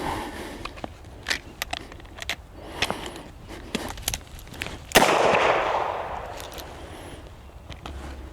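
Revolver firing a live round after a one-handed reload, preceded by a series of metallic clicks and handling taps, then a single sharp, loud shot that rings out before fading.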